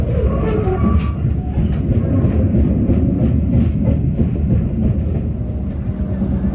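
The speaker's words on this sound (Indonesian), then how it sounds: "Jadi saat ini saya sudah berada di dalam kereta api Majapahit." Constant rumble and rattle inside a Majapahit economy-class passenger train travelling the rails in Indonesia, loud and steady throughout, with faint clatter and no talking.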